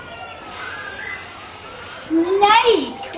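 A voice imitates a snake with a long, steady hiss lasting well over a second, followed by a brief, louder voiced sound.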